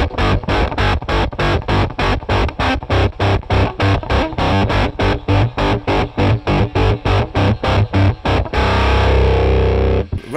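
An electric guitar is played through a KHDK Unicord Blood II octave fuzz pedal at full volume, giving a distorted, ring-modulator-like tone in rapid rhythmic chopped strums that end on a sustained ringing chord.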